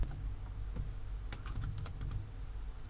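Computer keyboard typed while writing ReactJS code, a run of quick close clicks gathering into a dense burst midway over a steady low hum, with no voices.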